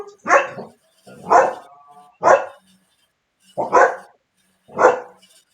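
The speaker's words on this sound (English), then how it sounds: "They're such good boys, but the barking is such a bugaboo." Dogs at home bark loudly and close by, five separate sharp barks spaced about a second apart with quiet gaps between them.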